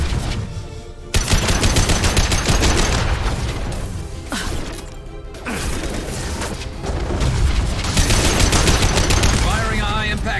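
Gunfire in the video game Mass Effect 2 Legendary Edition, loud repeated bursts of shots and booms packed densely together, with brief voices and game sounds mixed in between volleys.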